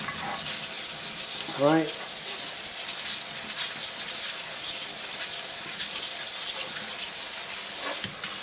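Raw peanuts being rinsed under a running kitchen tap: a steady, loud wash of splashing water throughout, with a brief squeak of the faucet near the start and a short spoken word over it.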